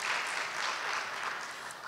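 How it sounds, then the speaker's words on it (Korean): Steady audience applause at an agri-food industry forum on microbiome research: a dense, continuous wash of many hands clapping, even in level throughout. "발표를 해주신 오늘 세 분께 다시 한번 큰 박수 부탁드립니다."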